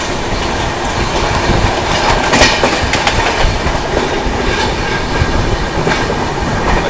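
The Paschim Express running at high speed alongside a Mumbai local train: a loud, close, continuous roar of wheels on rails with rapid clickety-clack beats and a sharper clatter burst partway through.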